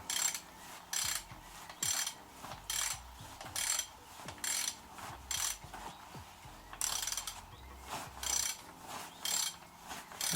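A hand ratchet undoes the belt tensioner bolt on a BMW 740i E38, clicking in repeated close bursts of rapid pawl ticks with short pauses between strokes.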